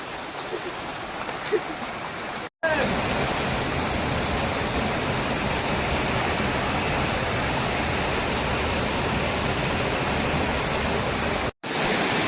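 A small Konkan stream flows in a steady, dense rush close by, unbroken apart from two abrupt momentary dropouts, with no talking.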